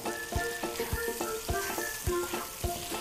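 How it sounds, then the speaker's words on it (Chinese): Shredded pork and bamboo shoots hit a hot wok and sizzle, with a rhythmic series of sharp spatula scrapes and clanks as they are tossed and stir-fried, no voices. "我们把笋丝放下来，把肉丝放下来， 轻轻的翻炒一下"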